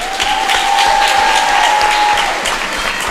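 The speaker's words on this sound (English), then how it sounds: "Let's give a big Cougar cheer for the sneaky, hard-hitting, future lawyer, Bridie Koskoka." A school crowd claps and cheers for a graduating student, with loud, dense, continuous applause and voices.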